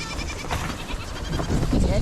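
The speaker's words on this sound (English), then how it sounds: "Goats are running on in." Goats on a homestead crowding in at feeding time, bleating and shuffling close by over a steady rustle, with someone talking over them.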